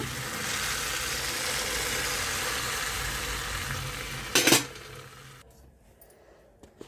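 Fried tempering for katte pongali sizzles and crackles steadily as it is poured in and stirred, followed by a brief louder clatter before the sizzle dies away into near quiet.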